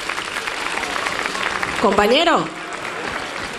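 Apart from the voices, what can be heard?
carnival gala audience applause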